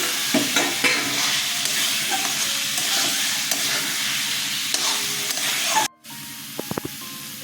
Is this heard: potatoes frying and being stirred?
yes